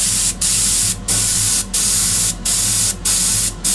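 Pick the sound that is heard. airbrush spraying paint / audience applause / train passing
airbrush spraying paint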